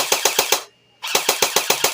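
A JG Mac 10 airsoft AEG fires two rapid bursts of mechanical clicking shots, about six rounds each, split by a short silent pause, close and crisp.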